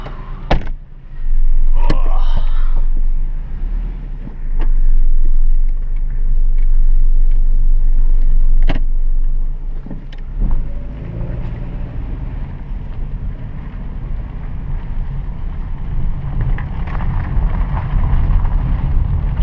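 A 1995 Toyota Camry drives on a short test loop after front-end maintenance, its engine and road noise a steady close rumble with wind buffeting the microphone and a few sharp knocks.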